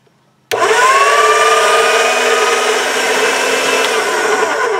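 A pasta machine rolls a polymer clay Skinner blend at its thickest number 1 setting, starting abruptly with a loud, steady motorized whir and grinding hum that runs on unbroken to the end, alone without talk.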